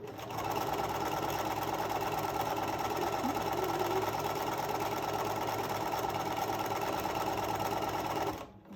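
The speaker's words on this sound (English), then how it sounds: "I'm sewing my 1/4 inch all the way around" A sewing machine runs steadily, stitching a quarter-inch seam around the fabric of a 3D travel tray. The loud, even mechanical whir continues for about eight seconds, then stops.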